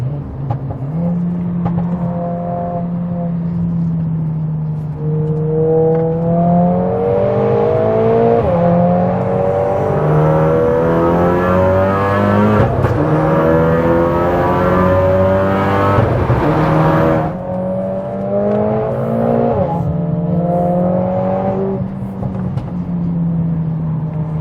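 A Volkswagen MK7 Golf R or Mercedes A45S AMG lapping the Nürburgring, engine droning loud and steady with rising and falling pitch through gear changes and throttle shifts, no talk over it.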